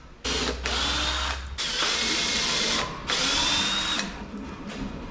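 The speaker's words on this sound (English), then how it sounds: "we're going to add some screws to this" Power drill driving screws into a large wooden pull-out drawer for a camper, several loud close bursts of whirring separated by brief pauses, no talking.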